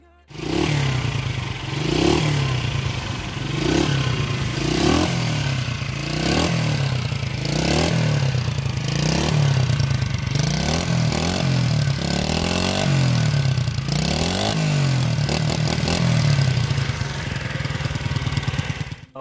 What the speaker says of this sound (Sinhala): අපි බයික් එකේ එක්සෝස් නෝට් එකක් අරගෙන බලමු මොන වගේද කියලා